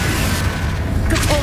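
A Confringo fire spell from the video game Hogwarts Legacy bursts in a short, dense boom, with a brief voice-like tone near the end.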